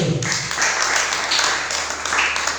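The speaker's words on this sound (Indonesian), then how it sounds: "mari tepuk tangan untuk Tuhan" A church congregation in Waisai, Raja Ampat, applauding for God during Sunday worship, a steady moderate wash of clapping with a brief voice at the start.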